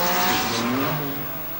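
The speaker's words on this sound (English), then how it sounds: "With that familiar barking exhaust note bouncing and reverberating off the cottages" A 300 horsepower Porsche rally car driven by Henri Toivonen roars past on a stage, its barking exhaust loud and close, revving and echoing off nearby cottages, with a brief tire squeal.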